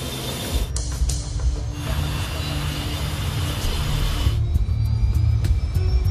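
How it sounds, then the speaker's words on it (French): Loud, roaring jet engine noise from a British European Airways airliner at takeoff, with a low rumble and strident hissing high whine, steady and close, building toward the end. "Les moteurs de cet avion émettent un son particulièrement strident"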